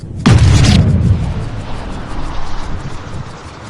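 A single sharp, loud crack of a driver striking a golf ball off the tee at a tournament, followed by a fading rumble of outdoor ambience and distant crowd.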